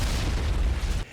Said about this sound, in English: They strike directly on their intended target as the explosions ring out.